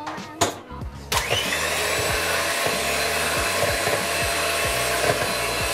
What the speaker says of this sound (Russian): Мен муну миксер менен аралаштырып алдым.